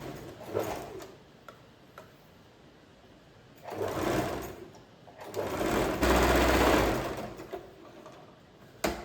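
Sewing machine stitching fabric for a small child's dress, close rapid mechanical clatter in several bursts of varying length, with quieter pauses between runs.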